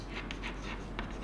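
Pen or marker strokes on a board during a maths lesson on differentiation, a few short scratchy bursts, close and fairly quiet, with no talking.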